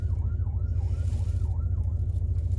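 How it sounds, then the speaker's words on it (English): A firefighter's emergency vehicle siren wails up and down repeatedly as it drives by, rising and falling over a loud low engine rumble nearby. "There's an emergency vehicle of some sort."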